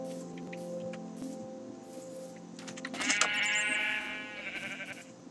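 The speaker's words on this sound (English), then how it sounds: "Stop it, sheep." A Minecraft sheep bleats repeatedly, a loud wavering cry swelling near the middle, over a steady ambient game backdrop with soft rustles.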